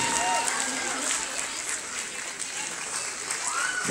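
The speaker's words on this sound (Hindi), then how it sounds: "तालियां जोरदार तालियां बजाइए" Loud applause from an audience at a dance competition grand finale for a junior category winner, continuous dense clapping under an announcer's voice over a PA.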